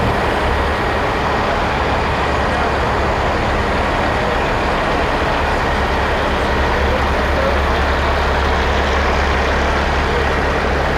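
A semi truck idles at a truck show featuring cabover rigs in the mountains, with rain falling. A loud, constant low engine drone runs unchanged throughout, mixed with broadband hiss.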